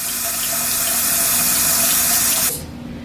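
Hot water runs steadily from a tap over a makeup brush, a close, even hiss and splash that stops abruptly near the end.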